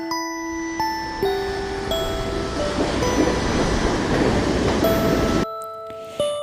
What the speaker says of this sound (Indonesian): suara kereta itu semakin keras dan melaju kencang melewatiku